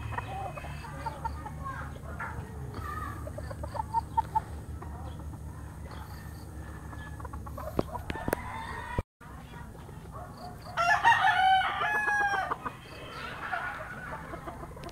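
Fighting rooster (game fowl) crowing and clucking in a yard, a burst of crowing standing out loud near the end over steady background noise and faint talk.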